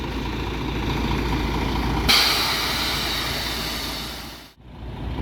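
An ALS intercity bus departs a terminal, its heavy diesel engine rumbling loudly and steadily, with a sharp hiss like an air brake release partway through before the sound briefly dips.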